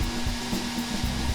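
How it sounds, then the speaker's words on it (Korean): A hair dryer blows hot air into a styrofoam box with a constant, loud, breathy roar and a low hum. It runs steadily and alone, with no speech. "드라이기를 켜서 뜨거운 바람을 스티로폼 박스에 넣기 시작하는데요"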